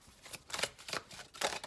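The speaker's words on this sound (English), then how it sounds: "I'm just going to shuffle until we get about 8 cards" A deck of tarot cards being shuffled by hand, with quick, soft riffling bursts in an uneven rhythm, close and quiet.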